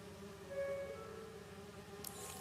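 Bees buzz in Marvel's Spider-Man 2, a faint, steady insect drone with wavering tones sustained over a low hum, ending with a soft brief rustle.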